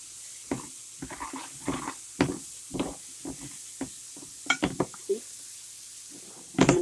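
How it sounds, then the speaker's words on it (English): Wooden spoon stirring onions as they sauté in a pan, producing scattered scraping and clattering strokes over a soft sizzling hiss, irregular and close, with a louder clatter at the end. "Go ahead and use a wooden spoon for this so I don't scratch my pan."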